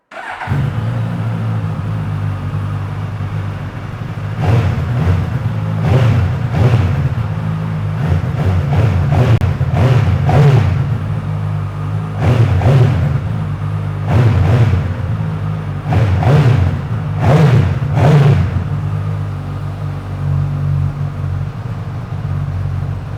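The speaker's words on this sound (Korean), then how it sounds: "순정모 폴로의 배기 사운드 한번 들어보고요." A 2020 Suzuki Katana four-cylinder motorcycle on its stock exhaust, low-mileage and fitted with a lowering link, idles close and loud, then gives a series of sharp throttle blips, some in quick pairs, each dropping back to a steady idle.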